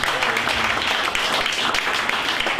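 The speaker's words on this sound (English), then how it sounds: "Let's clap for Jesus." A church congregation claps together during a sermon, a brief burst of dense, even applause from a gathered crowd, steady and fairly loud throughout with a few voices mixed in.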